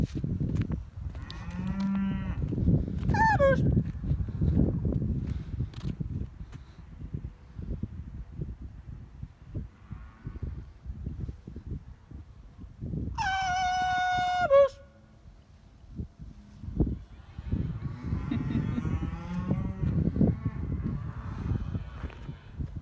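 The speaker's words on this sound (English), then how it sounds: "we're gonna call the cows out to this area that Ryan's fenced off" Farm cattle moo loudly several times over crunching footsteps and wind, with people's voices breaking in now and then as the cows are called out toward a fenced-off lane.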